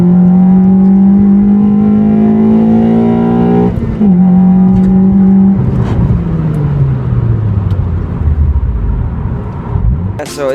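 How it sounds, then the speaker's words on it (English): Car with a new intake accelerating hard during a pull, loud rising engine roar climbing through gears with short breaks at each shift, intake noise prominent and close throughout. "I'm gonna leave a clip of me doing a pull in it here."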